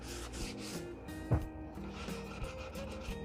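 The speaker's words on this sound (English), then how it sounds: "one last little bit of hand sanding." Close, steady rasping strokes of sandpaper rubbed by hand over wood, with one sharp knock partway through.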